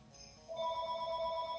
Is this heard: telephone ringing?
yes